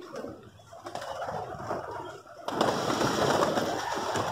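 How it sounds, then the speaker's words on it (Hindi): A pigeon being caught and caged, its low soft coos faint under a steady rustling background, getting louder and busier halfway through, no voices. "ये देख कितना सयाना कबूतर है"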